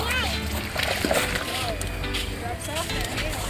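Water splashes and sloshes as a child jumps through puddles, close and continuous, mixed with a child's and an adult's voices.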